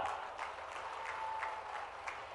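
Crowd applause at an outdoor public event where the Chief Minister inaugurates a bridge over the Sindh river in Sevda, Datia district. Steady, moderately distant clapping runs throughout with small surges and no clear talk.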